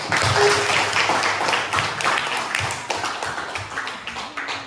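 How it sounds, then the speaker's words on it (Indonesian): Elementary classroom children clapping their hands, a brief burst of scattered, uneven claps and taps up close with some faint voices mixed in, tapering off over a few seconds. "Ayo, coba tepuk tangan sama dia."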